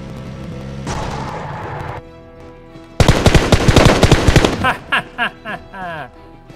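Gunfire in the mobile battle royale game PUBG Mobile, with a loud burst of rapid automatic shots followed by several separate single shots, close and punchy over game sound effects.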